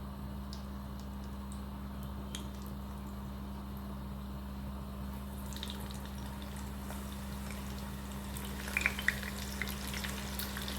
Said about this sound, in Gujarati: બે બેચીસમાં આપણે બટેટા તળી લેશું.